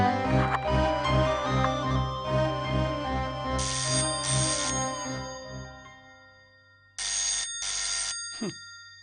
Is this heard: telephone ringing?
yes